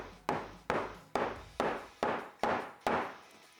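A hammer knocks bark off a piece of wood, seven sharp, evenly spaced blows that each ring out briefly, close and fairly quiet, with no talking.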